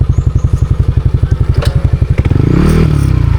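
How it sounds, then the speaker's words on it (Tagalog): A motorcycle on a rough trail during a camping ride in Laguna chugs loudly in rapid, even pulses, then revs harder. Clattering and scraping sounds mix in close by. "Ayun, na yung motor ni Master Kaloy."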